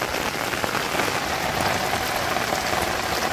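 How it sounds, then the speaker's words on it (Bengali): Rain pours onto water in a village, a dense steady patter of drops, loud and even throughout with no voices. "বৃষ্টিটা কত সুন্দর করে পড়বানছে জলের মধ্যে, টিপ টিপ টিপ টিপ করে"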